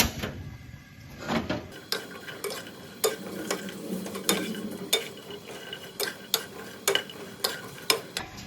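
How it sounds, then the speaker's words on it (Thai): Chilies, garlic and shallots dry-roasting in a pan, with repeated scraping and stirring clicks of a utensil against the metal at a steady rhythm over a low background. "เดี๋ยวเราก็จะมาคั่ว พริกแดงจินดากระเทียมแล้วก็หอมแดงกันค่ะ"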